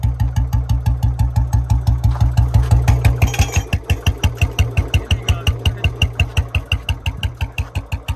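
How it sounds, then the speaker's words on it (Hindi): Close-up idle of a 2024 Royal Enfield Bullet standard BS7 with a whistle fitted in a short bottle silencer: a regular thumping beat, with a thin airy whistle-like edge that grows clearer partway through. "देखो आप बिसल लगाते ही इसकी साउंड थोड़ी सी दब गई है, और मतलब के जो बिसल की साउंड है वो स्टार्ट हो गई है"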